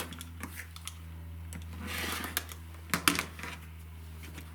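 A pineapple trim tool and rotary cutter trimming paper-pieced quilt block edges, soft scraping and rubbing strokes with a few sharp taps and clicks, close and fairly quiet over a low steady hum.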